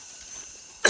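A single sharp cough bursts out close by at the very end, breaking a quiet, hissing rainforest background during a wildlife encounter.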